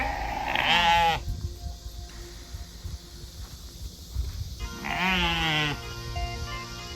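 A sheep bleats twice nearby, long wavering calls separated by a few seconds of quiet outdoor background noise.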